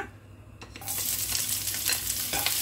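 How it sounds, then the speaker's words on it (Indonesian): Shallots and garlic are sautéed in oil in a nonstick frying pan, starting with a quiet hum before a loud, steady sizzle bursts in and continues, broken by light stirring scrapes. "Sekarang panaskan teflon lagi, taruh minyak secukupnya. Kita tumis bawang merah dan bawang putihnya ya."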